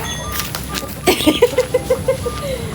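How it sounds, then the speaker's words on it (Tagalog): Chickens cluck in a quick, rhythmic series of short calls, close by while being fed on a farm, amid faint background rustle. "kapag nagpapakain ako ng manok, nakasunod yan"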